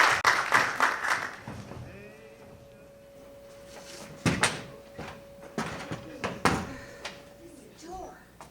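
A door being opened and closed on a community theatre stage during a play, heard as a few sharp knocks and thuds among stage talk and movement, with a faint steady hum running underneath.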